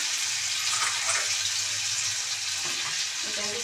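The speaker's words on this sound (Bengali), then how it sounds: "এবার জল দিয়ে দেবো।" Water is poured into a hot pan while eggs cook, a loud broadband hiss and rushing sizzle that carries on steadily, with faint clatter near the end.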